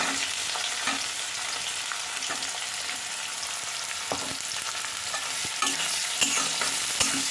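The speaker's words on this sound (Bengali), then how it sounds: "এবার আমি এর মধ্যে পেঁয়াজের কুচিগুলো দিয়ে দিলাম।" Chopped onions hit hot oil with crushed garlic, a steady close sizzle with scraping stirs and small spatters throughout.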